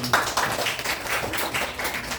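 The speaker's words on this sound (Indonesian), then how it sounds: "Oke, tepuk tangan buat Habibi." A class applauding together, dense overlapping claps in a steady wash of sound lasting a couple of seconds, moderately loud with no talking.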